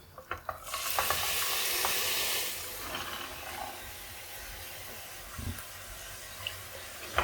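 Chickpeas are tipped into frying masala in a pan and set off a loud burst of sizzle, which settles into a softer steady fry with scraping stir strokes and occasional clinks, close by and with no talking.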